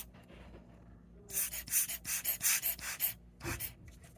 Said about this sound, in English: grab my blower